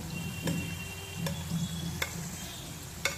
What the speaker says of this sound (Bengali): ধীরে ধীরে একদম মুচমুচে করে কিন্তু এগুলোকে ভেজে নিতে হবে